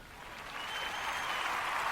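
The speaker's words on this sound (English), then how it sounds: "let's give a round of applause to them" Round of applause building steadily from an audience, a dense wash of hand claps growing louder over two seconds with no talking.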